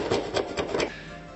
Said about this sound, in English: I'm also using a keyhole saw as well